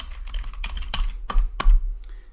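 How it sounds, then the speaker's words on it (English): Keys clacking on a computer keyboard while a bash script is written on a Linux system, several distinct sharp keystrokes in an uneven rhythm, close and fairly loud, with no talking. "we are typing a bash script"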